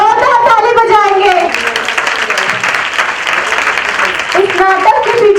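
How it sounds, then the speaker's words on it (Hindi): A church congregation claps after a skit, a dense burst of applause filling the middle, while voices speak at the start and again near the end. "जोरदार ताली बजाएंगे।"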